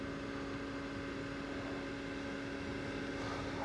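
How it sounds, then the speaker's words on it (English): Aircraft drone overhead above the California Delta along the San Joaquin River, likely crop-duster planes, a steady propeller hum with a sustained tonal whine, even and unbroken throughout. "there's a lot of airplane activity"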